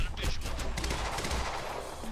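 Gunfire crackles in a busy exchange of shots from snipers in the video game Quantum Break, sharp reports over a dense battle din with no clear voices.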